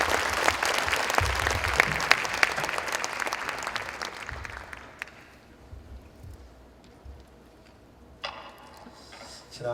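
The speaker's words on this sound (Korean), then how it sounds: "우리 이용희 교수님 나오실 때 박수로 하나님께 영광 돌리시고" A church congregation at a prayer gathering applauds loudly for about four seconds, then the clapping thins out to a few scattered claps with quiet room noise and a brief sound near the end.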